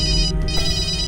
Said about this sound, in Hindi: फोन उठा ले जल्दी